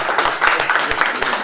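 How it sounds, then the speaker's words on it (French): Audience applause, a dense burst of many hands clapping at a political presentation event, loud and filling the space briefly. "Donc, un petit applaudissement pour M."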